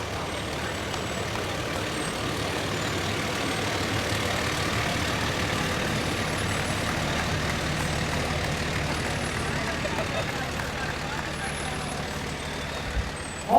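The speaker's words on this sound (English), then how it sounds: "This is engine 2717, their 2008 KME Predator Pumper." A 2008 KME Predator pumper fire engine rolls along in a county firemen's convention parade, its diesel engine a steady low rumble throughout, with a brief louder thump near the end and a voice talking over it.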